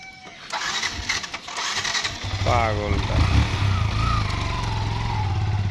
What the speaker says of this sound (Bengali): ঘুরবে মোটরসাইকেলে, একটু ঘুরান তো এখানে।